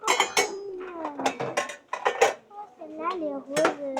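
Small pots clink and clatter as they are picked up and handled in a shop aisle, a string of close metallic knocks and ringing taps with brief pauses, no speech.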